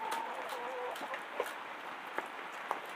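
Laying hens clucking softly in the background in a coop during rain, with a few scattered sharp taps and knocks over a steady ambient hiss.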